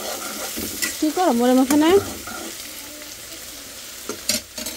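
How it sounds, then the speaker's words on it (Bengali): Cabbage and bottle gourd stir-fry together in a pan at home, a soft sizzle with a few utensil knocks running beneath a voice that speaks briefly in the middle. "প্রথমবার করতেছি পাতাকপি আর লাউ ভাজি একসাথে।"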